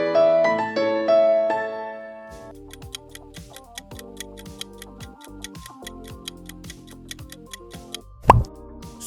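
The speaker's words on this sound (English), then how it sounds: "Superb! It's Nokia!" A Nokia logo sound: a short bright melodic tone phrase, then a dense run of ticking, plucky clicks and a low thump near the end, crisp and alone.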